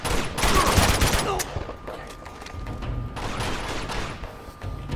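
Gunfire in Uncharted 2: Among Thieves Remastered gameplay: rapid bursts of weapon fire rattle in clusters, loud at first, then thinner shots crackle intermittently with faint voices mixed in.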